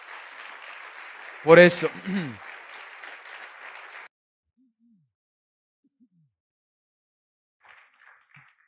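A church congregation breaks into applause, a dense burst of clapping that runs for about four seconds before cutting off, with a voice speaking over it partway through.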